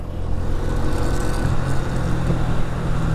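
A motorbike on a long ride through city traffic, its engine droning steadily and loudly with a rattling vibration, and a continuous low rumble of road and wind noise with no talking.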